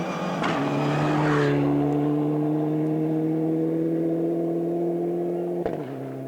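A Super 2000 rally car on a gravel rally stage in Australia screams close by at high revs, holding a long sustained engine note between sharp shift transients at the start and end, with no speech.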